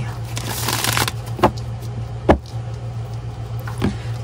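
A deck of cards is shuffled by hand for a card reading, with a rapid riffling burst at the start followed by several sharp taps and snaps, close and loud over a steady hum.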